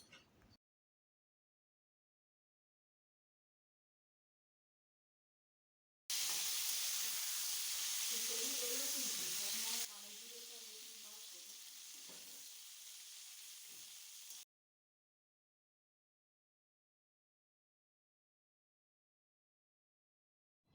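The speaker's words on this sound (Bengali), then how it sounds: "এবার ওই তেলের মধ্যেই লম্বা করে কেটে রাখা বেগুনগুলোকে ভেজে নেব।" Long-cut eggplant pieces frying in oil, a bright, even sizzle that starts suddenly, runs for about eight seconds with a slight drop partway through, then cuts off between silences.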